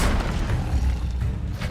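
In the Hogwarts Legacy video game, an Incendio fire spell goes off as a loud, deep whooshing boom that fills the whole short moment.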